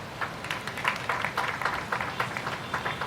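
Audience applause at a gathering marking the UN international day in support of torture victims, a steady patter of clapping hands from a moderate-sized crowd, sustained and fairly even for a few seconds with no voices.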